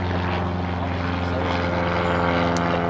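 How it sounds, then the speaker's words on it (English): A propeller airplane passes low over an outdoor wiffle ball game with a loud, steady droning hum that fills the whole stretch and never fades, with no talk over it. "That airplane is way too close."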